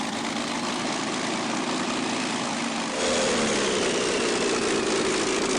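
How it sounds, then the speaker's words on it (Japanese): A steady aircraft engine drones close by before takeoff, a steampunk Ki-64 fighter in 3DCG, its tone rising and growing slightly louder partway through, like a small propeller motor running up. "エンジン発動。"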